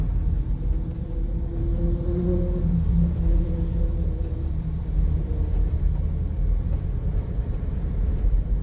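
Steady road traffic on EDSA between Kalayaan and Ortigas in Manila, a continuous loud low rumble of engines with a few faint tonal hums drifting through, recorded from inside a moving vehicle.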